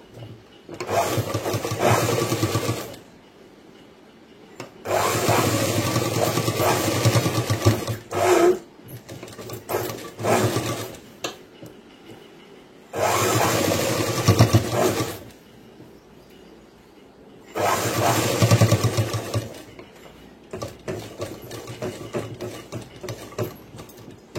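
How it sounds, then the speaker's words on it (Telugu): Sewing machine stitching a boys' school uniform pant, running in four loud whirring bursts of a few seconds each with quiet pauses between, close by and alone. "ఈ విధంగా అయితే ఇట్లా కుట్టేసుకోవాలి"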